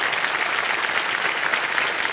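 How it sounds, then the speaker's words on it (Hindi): A studio audience applauds on the KBC (Kaun Banega Crorepati) Season 17 television game show, with steady, dense clapping that fills the whole two seconds at an even level and no voices over it. "और एक बार फिर तालियों के साथ आपका स्वागत है।"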